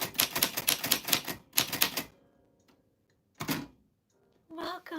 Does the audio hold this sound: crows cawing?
no